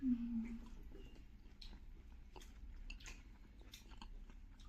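Someone chews dry Gobi Manchurian, fried cauliflower in a dry sauce, with soft, quiet crunching bites that repeat irregularly close to the mic in a hushed room.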